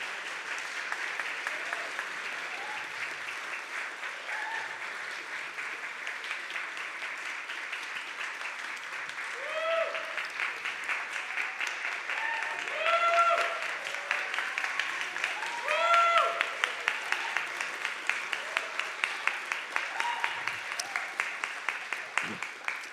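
Sustained applause from an audience at a community unity rally in support of Israel, steady throughout and swelling toward the end, with voices mixed into the clapping.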